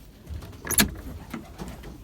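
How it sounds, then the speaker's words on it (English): A window in a pigeon loft is slid shut, giving one short scraping thud among quiet shuffling and low room noise. "I almost forgot to close this window from"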